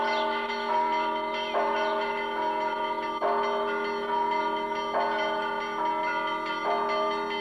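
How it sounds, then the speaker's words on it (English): Church bells ring at the Russian Orthodox Gorny Monastery in Jerusalem, with a rich, sustained, overlapping peal struck again at regular intervals of about a second and a half, loud and continuous. "Sister Vera rings the bells at the Russian Orthodox Gorny Monastery."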